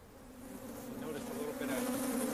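Agitated killer bees swarm at a hive, a dense continuous buzzing drone that swells gradually and stays close and steady.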